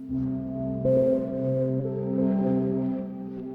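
A sustained tone from a Just Friends modular synthesizer oscillator module, with layered steady harmonics, drones at moderate volume, shifting slightly in pitch and texture partway through.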